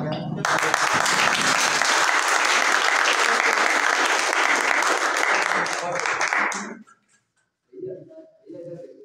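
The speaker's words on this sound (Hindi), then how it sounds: "सभी लोग जो है जोरदार तालियां" Loud applause from a crowd of Bhim Army workers at a village Buddhist vihara gathering, sustained for about seven seconds before stopping abruptly; brief speech follows.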